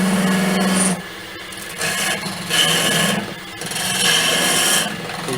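A gouge cutting dense laburnum wood spinning on a lathe gives a harsh, scraping rasp that comes in several close bursts with short quieter gaps between passes, with no talk over it.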